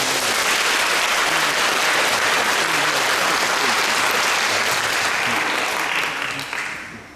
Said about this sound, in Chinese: 请来宾们一起掌声鼓励欢迎他们。